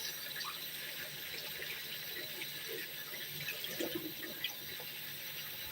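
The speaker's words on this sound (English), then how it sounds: "this tomato needs to be done up. I'm gonna wash it." Tap water runs steadily into a sink as a tomato is rinsed in a home kitchen, a soft, faint hiss with small splashes and handling noises, no voices.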